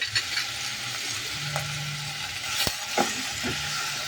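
Garlic sautés in a pan for pork adobo, giving a close, steady sizzle with stirring scrapes and a few sharp clinks of a spatula against the pan.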